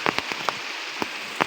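Rain patters onto a surface in sparse, irregular drops, a soft hiss with a few distinct taps spaced unevenly.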